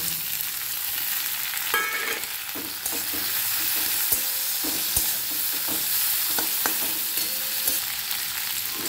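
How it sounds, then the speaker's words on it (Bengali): Onions stirred as they fry in a pan for a bitter gourd and potato dish, with a continuous sizzle and repeated scraping, clattering stirs of the spatula, close and clear. "পেঁয়াজটা একটু নাড়াচাড়া করব।"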